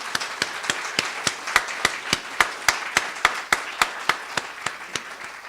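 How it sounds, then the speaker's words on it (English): Audience at an academic lecture event on the Dunhuang cave temples claps with a strong, regular beat, each sharp clap distinct and evenly spaced as if in unison. "So please join me in giving her a big round of applause"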